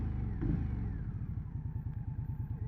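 An Indian Scout motorcycle engine runs with a low, blubbery rumble of rapid, steady pulses, fairly faint and heard alone.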